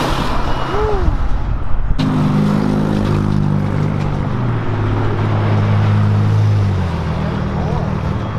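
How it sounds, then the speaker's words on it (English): Vehicles rumble past nearby, an engine swelling and fading over steady traffic noise, with people talking faintly underneath. "just look at all the cars go by"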